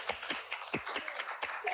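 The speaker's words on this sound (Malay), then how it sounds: "tepuk tangan sikit" A small group of people clap their hands in a classroom, several quick, uneven claps over a couple of seconds, fairly quiet and close.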